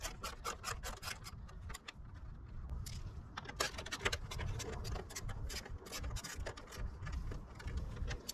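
Grille bracket bolts go back into a GMC Sierra 1500 during a light bar installation, with close, faint metallic clicks, ratcheting ticks and light scraping in an irregular rhythm and no talking.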